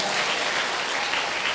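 Audience applause fills a Buddhist dharma hall during a monk's talk on preserving merit, a steady, dense wash of many hands clapping at close range that holds evenly throughout.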